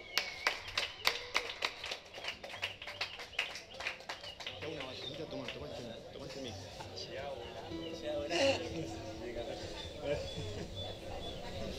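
An audience at a talent show claps in quick, steady strokes for a performer, loud and close for the first few seconds before fading under talk and other sounds.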